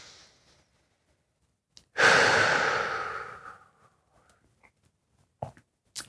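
A person draws one long, loud breath in during a hip lift exercise, close and airy, fading out after about two seconds, with faint small clicks and rustles before and after.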